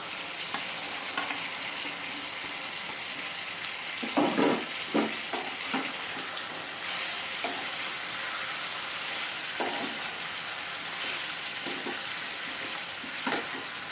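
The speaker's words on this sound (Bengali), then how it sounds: "নেড়ে চেড়ে ভালো করে ভেজে নেব সবজিগুলো" Carrot, potato and other vegetables frying in a pan for pasta, with a steady sizzle and irregular scraping, clacking stirs from a utensil close by; no talking.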